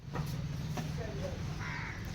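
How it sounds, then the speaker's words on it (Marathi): A crow caws a few times in the background over a steady low hum, with faint voices nearby. "कावळा काव काव करतोय"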